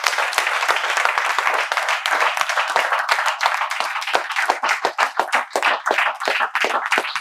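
A class audience at a spoken English institute claps in welcome: dense, loud, continuous applause for about seven seconds, thinning into separate claps toward the end.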